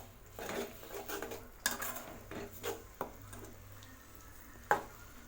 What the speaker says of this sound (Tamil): நல்லா மிக்ஸ் பண்ணி நல்லா வதக்கி விட்டுக்கலாம்